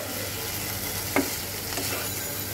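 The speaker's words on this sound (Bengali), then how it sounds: "দেখো আমার কিন্তু খুব সুন্দর মতন মশলাটা কষানো হয়ে গেছে, আমার কিন্তু তেলও ছেড়ে দিয়েছে।" Masala spices and prawns frying in oil in a pan for a spicy prawn curry, a steady close sizzle with a few scraping stirs of the spoon, no voices.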